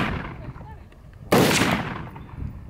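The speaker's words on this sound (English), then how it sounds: "This is his first time shooting an M4, but it's his first time on this one." A single loud gunshot from an M4 rifle cracks sharply outdoors and rings into a short decaying echo, preceded by low background murmur and noise.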